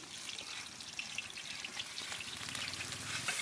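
Ground coriander paste fries in a pan with ginger, garlic and cumin pastes over fried onion, a dense continuous sizzle with soft stirring, close and steady.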